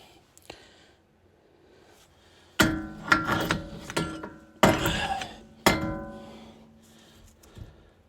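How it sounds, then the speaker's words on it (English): Several hard metal-on-metal hammer blows, loud and close, struck in irregular bursts against a stuck part to knock it loose, each ringing briefly before the next hit. "So I'll hit it a couple times, try and get it loose."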